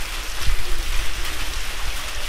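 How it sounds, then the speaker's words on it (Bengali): Heavy rain pours down steadily, a dense close hiss of drops drumming on surfaces with low rumbling undertones, continuous and loud with no voices. "বৃষ্টি চলে এসেছে যে"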